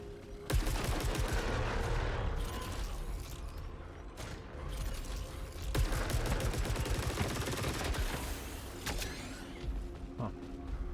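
Weapon alternate fire in the sci-fi shooter Saros, a dense stream of rapid mechanical shots and bursts running nearly the whole time, loud and busy with brief dips between volleys.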